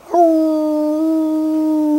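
A therapy dog lets out a single sustained howl, a loud, close, steady tone that holds for about two seconds without breaking, alone with no talking.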